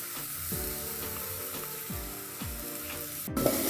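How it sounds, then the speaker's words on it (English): A spoon stirs black pepper, Royco and tomato paste in a pot of African potato soup, giving a few scraping strokes over a soft, continuous sizzle. Near and quiet, with a brief clatter at the end. "So I stir them so that they can mix."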